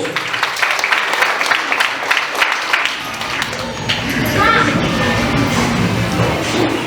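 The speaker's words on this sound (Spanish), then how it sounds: "para quien le damos muy fuertes aplausos" Wedding guests applauding Señora Máxima Pérez, a lively burst of clapping mixed with crowd chatter and children's voices, the claps sharper at first and then blending into a busier hall murmur.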